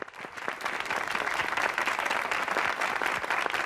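A television studio audience applauds on a game show, a steady dense wash of clapping that holds evenly throughout at moderate volume.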